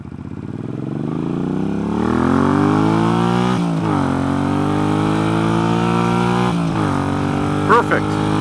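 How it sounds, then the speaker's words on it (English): A motorcycle fitted with a new Barnett clutch kit revs and accelerates hard while being ridden, its engine note climbing steadily through the gears with brief dips at shifts, loud and close throughout. "Benefits of being on a motorcycle."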